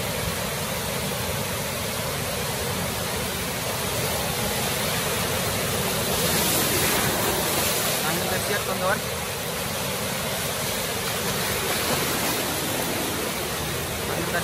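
The Seven Ghosts tidal bore surges up a river as a loud, continuous broadband roar of rushing, churning water that swells slightly midway, with faint voices underneath.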